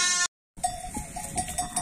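Sheep bleat on a farm with lambs all around, a loud close bleat followed by a brief silence and then several overlapping cries with ringing, bell-like tones.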